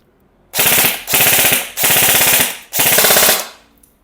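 An airsoft rifle fires on full auto in four quick bursts of rapid, rattling shots, each about half a second to a second long, loud and close.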